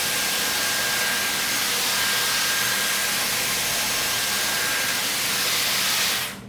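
A Dyson hair styler on its second heat and fan setting blows a steady, loud airy hiss that holds nearly unchanged for several seconds and then cuts off at the end.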